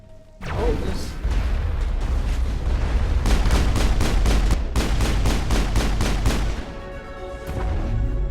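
Pistol and machine gun fire in the sci-fi shooter Mass Effect: loud, continuous volleys of close shots, with rapid repeated bursts rattling through most of the clip and a brief lull near the end.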